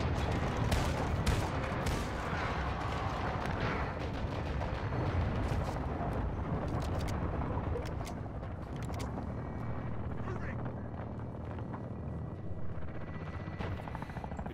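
An air gun run in the Call of Duty Modern Warfare 2 campaign brings a dense, loud, unbroken roar of rapid gunfire, explosions and engine rumble, sustained throughout with sharp crackling bursts layered on top.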